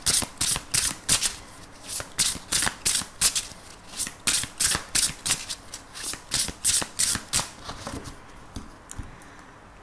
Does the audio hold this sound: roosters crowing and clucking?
no